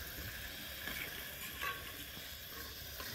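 Onions frying in oil in a pan, cooked outdoors for a chicken party, giving a soft, even sizzle with faint clinks and scrapes of stirring, heard alone and fairly quiet throughout.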